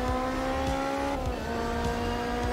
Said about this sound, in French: j'essaie toujours de me taire pour que vous ayez un peu le son du moteur sans rien d'autre